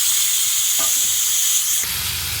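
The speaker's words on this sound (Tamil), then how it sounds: "இப்போ கட் பண்ணி வச்சுருக்க தக்காளியும் போட்டு அந்த தக்காளியில் இருக்க ஜூஸ் வந்து நல்லா வதங்குற மாதிரி நம்ம வதங்க விட்டுடலாம்" Chopped tomatoes and broad beans sizzle and fry in a pan, a bright steady hiss with a couple of stirring knocks, loud and close.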